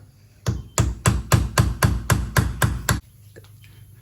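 Rusted seal being banged out with a puller on an Infiniti G35: nine sharp, evenly spaced metallic impacts, close and loud, ending abruptly before a quiet tail.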